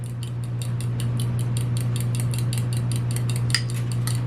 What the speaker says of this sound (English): we're just going to mix that around to make just a little quick egg wash